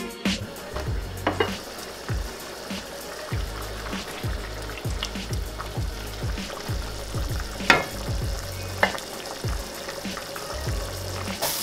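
Shami kebab mixture sizzling uncovered in a pan as its moisture cooks off, with a steady low simmer and a regular series of soft scraping stirs, plus occasional sharper pops.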